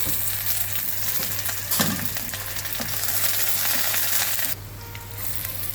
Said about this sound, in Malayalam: അടുത്തത് ഇഞ്ചി ഇടുവാണ് ഇഞ്ചി വെളുത്തുള്ളി വെളുത്തുള്ളി പച്ചമുളക് പച്ചമുളക് കറിവേപ്പില